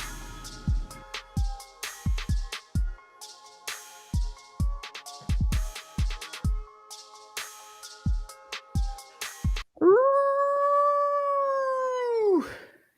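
A dog howls near the mic in one long, rising, sustained cry after a stretch of sharp knocking and plucked tones.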